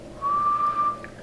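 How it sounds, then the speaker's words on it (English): A person whistles one steady, clear sustained note lasting about a second, close and alone with no talking. "Can you whistle?"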